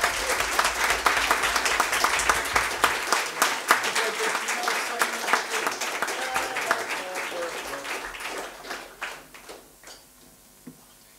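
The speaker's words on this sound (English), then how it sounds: "give him a massive round of applause" Enthusiastic applause for a young local jazz musician at a Sunday afternoon jazz livestream gig, dense clapping that thins into a few scattered claps and fades out near the end.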